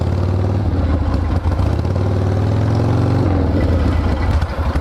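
A 1976 Harley-Davidson Ironhead motorcycle engine idles close by, a loud steady low thumping rumble with mechanical clatter and a brief slight rise in revs partway through, with no talking.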